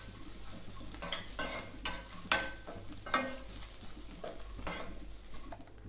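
Takla leaf vegetable stirred in a pan on low heat: a spoon scrapes and clinks against the pan in irregular strokes over a soft, continuous sizzle, close and clear, with no talking.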